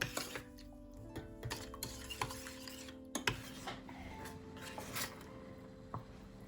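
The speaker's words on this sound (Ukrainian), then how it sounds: "Тепер, не перестаючи помішування, довести цю суміш до кипіння." A spoon stirs a poppy-seed sauce mixture in a pot on the stove, producing faint, irregular clinks and scrapes against the metal, close by, with no talking.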